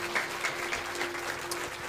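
Congregation at a church service claps for God, a steady wash of many hands at moderate level with a sustained tone humming underneath and no clear voices.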